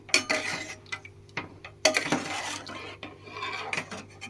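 A utensil stirs rice with salt and turmeric in a pot for khichuri, producing irregular metallic clinks and scraping strokes against the pot, close and fairly quiet, with short gaps between bursts.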